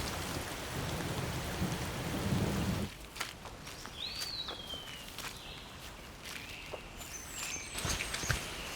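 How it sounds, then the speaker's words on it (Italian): Rain falling in a forest, a dense steady patter that drops away after about three seconds, leaving sparse drips and faint bird calls, with distant thunder rumbling low. "Aspettiamo che finisca di piovere."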